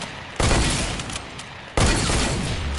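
Two loud, sharp gunshots from a hunting rifle, each followed by a rough, noisy tail, sounding close and harsh.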